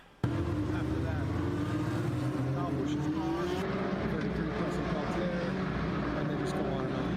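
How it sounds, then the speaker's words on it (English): A cammed race car engine runs at a racing event at Hickory, a loud, steady, rough rumble that starts abruptly and holds for several seconds. "Love cammed engines."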